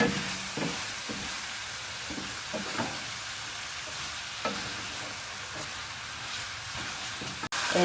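Onion and meat fry in a pan, caramelizing to a golden color, with a constant close sizzle and occasional scrapes and stirring knocks. No one talks.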